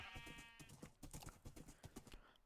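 Horse hooves clip-clop in Minecraft in a quick, even rhythm that repeats throughout. The sound is faint and plays alone.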